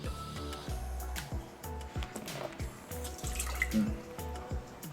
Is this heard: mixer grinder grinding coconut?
no